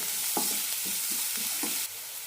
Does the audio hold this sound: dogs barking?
no